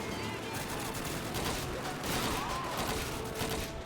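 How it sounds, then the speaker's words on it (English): Dense, continuous gunfire fills a World War II battle in Call of Duty 2 (2005), rapid shots overlapping into a steady roar with no pauses, loud and close throughout. "let's actually shoot somebody"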